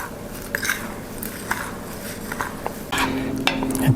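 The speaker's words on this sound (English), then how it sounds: "And then I just mix this till it's pretty evenly" Wild bird seed and rolled oats being stirred together in a bowl for homemade suet, giving dry scraping rustles and light clinks of a spoon, close and fairly loud, with a steady tone joining partway through.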